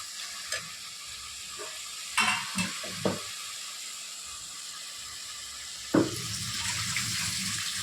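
Masala being stirred in a pan while cooking tomato rice, with a soft continuous sizzle broken by a few scraping clatters of the spoon against the pan and a louder knock near the end, no talking.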